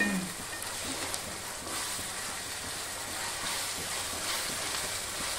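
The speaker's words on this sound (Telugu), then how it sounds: "ఉల్లిపాయలు బ్రౌన్ కలర్ వచ్చే వరకు బాగా ఫ్రై చేసేసుకోవాలి" Onion pieces sizzle in a pan with ginger-garlic paste, a soft continuous hiss and crackle heard close up with faint stirring, no talk.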